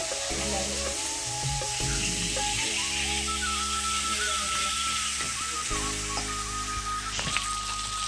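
Fish heads fry in hot oil with a steady, close sizzle that runs throughout, beneath a strong droning hum.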